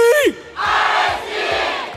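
An esports arena crowd at an MPL match roars and chants, a loud wash of massed voices following a short shout.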